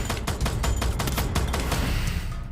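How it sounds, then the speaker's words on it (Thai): Gunfire from enemies in the mobile shooter Free Fire, a dense burst of rapid overlapping shots crackling loud and close for a couple of seconds. "สองตัวเขายิงกดผม"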